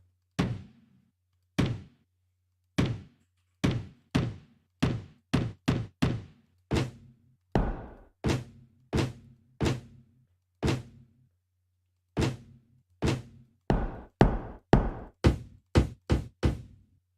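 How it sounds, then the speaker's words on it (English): A series of punchy stomp samples in FL Studio, heavy thuds played one after another in irregular bursts, some quick clusters, each dry and close. "it has sounds like this that are like basically stomp type sounds"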